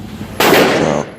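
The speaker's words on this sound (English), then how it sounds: "These are my first shots from my Kel-Tec, by the way." One loud, sharp blast from a Kel-Tec gun at a shooting range, bursting suddenly and ringing out briefly before cutting off, with quiet background before and after.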